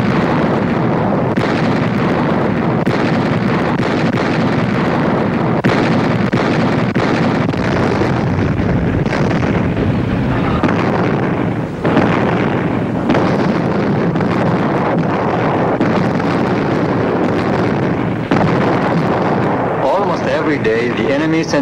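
Naval bombardment by cruisers and destroyers booms on continuously, a dense roar of explosions with rolling blasts and rumble, loud throughout, with a narrator speaking over it.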